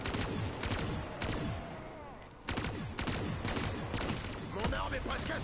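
Rapid gunfire from a BRM machine gun in Call of Duty Black Ops 3 Zombies on the Giant map, loud close bursts of repeated shots broken by a short pause, with game sounds mixed in.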